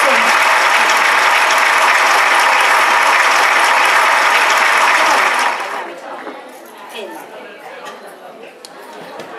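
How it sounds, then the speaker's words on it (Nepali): An audience at a Haritalika Teej celebration held by a Tamu Samaj women's group in the UK claps loudly for about five seconds. The applause then fades into quieter chatter and background murmur. "ताली बजाइदिनु होला है सबैजनाले"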